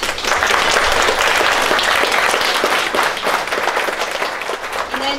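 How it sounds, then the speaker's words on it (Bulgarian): Audience applause at the opening of a sculpture and painting exhibition in a city art gallery, sustained many-handed clapping throughout, loud and even, with no talk over it. "И вашите аплодисменти за Анна Покровнишка."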